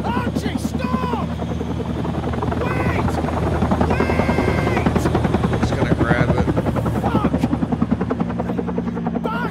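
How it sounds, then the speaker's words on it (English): A helicopter on an offshore oil rig in the video game Still Wakes the Deep drones with loud, rhythmic rotor chopping throughout, close and continuous, while voices talk over it at times. "It's waiting for you to get to the helicopter."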